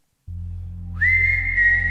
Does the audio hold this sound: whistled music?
yes